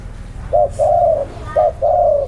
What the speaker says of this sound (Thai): นกตัวนี้ คูอยู่ครับ คูอยู่